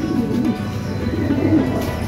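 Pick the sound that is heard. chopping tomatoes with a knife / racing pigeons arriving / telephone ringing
racing pigeons arriving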